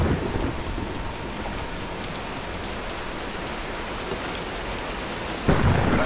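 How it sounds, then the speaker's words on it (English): Steady heavy rain pours down in a thunderstorm in the video game Tomb Raider, a dense constant wash with low rumbling, and a sharper burst near the end. "Nah, let's wait out the storm."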